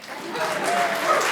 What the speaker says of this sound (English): And that clap right there is the accolade